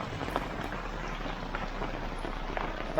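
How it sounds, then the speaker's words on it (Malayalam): Heavy rain pours down steadily in a village at Yendayar, Kottayam, a dense even hiss with scattered drop taps, close and continuous, with no voices. "നല്ല കിടിലൻ മഴയാണ്, ഫുള്ള് നനഞ്ഞ്"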